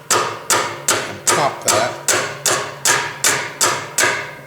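A plastic hammer taps on an engine valve of a Fairbanks Morse 3HP ZC engine under repair, about eleven sharp, evenly spaced close strikes with short ringing decays, and a few words spoken faintly.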